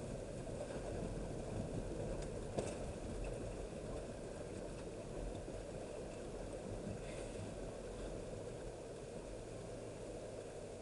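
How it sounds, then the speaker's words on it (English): A Land Rover wades through deep flowing water, a steady broad rush of water and low engine hum filling the scene evenly and quietly with no talk. "we're in the flowing water now as well"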